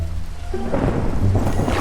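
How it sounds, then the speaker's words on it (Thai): Thunder and lightning striking in the Minecraft video game, a deep rolling rumble that swells and builds into a heavy crackling roar, with no talk over it. "มันมีฟ้าผ่าป่ะ"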